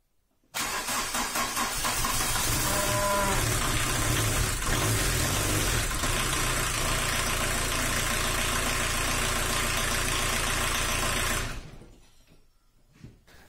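A 1984 VW Golf 2 engine under restoration starts and idles close by, with a loud, steady, slightly rough rumble for about eleven seconds. It then cuts off abruptly and goes quiet.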